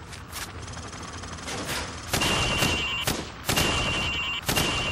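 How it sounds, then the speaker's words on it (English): Gunfire cracks out in Call of Duty: Modern Warfare as targets on a training range are shot from the hip, with several bursts of rapid automatic shots, loud and close, separated by brief pauses. "Now, shoot at the targets while firing from the hip."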